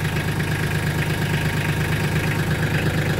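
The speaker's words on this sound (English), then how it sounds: "You got your RPMs here to rev it up." Mahindra compact tractor engine running, a loud, close, steady mechanical drone with a low rumble that holds even throughout, no voices.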